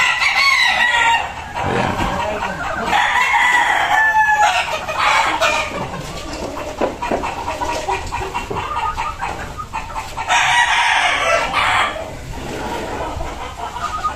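Gamefowl stags on a game farm crow and cluck repeatedly, several birds close by and loud, with someone talking briefly among them.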